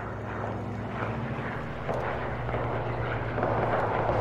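A P-47 fighter plane in a World War II combat video game drones with a steady engine roar that swells slightly over a few seconds, with no talking.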